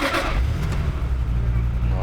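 Ferrari F355 V8 engine starting: a brief starter burst followed by a steady, smooth low idle rumble, close and fairly loud, with someone speaking over it.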